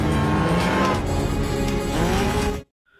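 A Dodge car in a chase roars past with its engine straining and tires squealing, loud and close, before cutting abruptly to silence.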